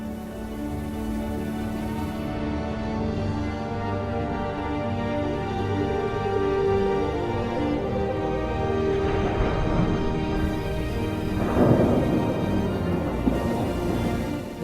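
A massive thunderstorm downpour over the Mongolian steppe: steady, heavy rain with low rumbling beneath, building slightly toward the end, with no voices.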